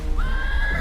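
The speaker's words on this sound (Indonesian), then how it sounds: "Mereka menyaksikan kepanikan kawanan kuda liar yang baru saja melihat sesuatu." A wild horse from a panicked herd gives a single brief, high neigh, fairly close, over a low rumbling background.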